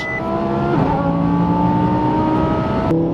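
A twin-turbo Lamborghini pulls hard in third gear, its engine note rising steadily and loud from inside the car, with a brief shift-like dip near the start and a sharp break at the end.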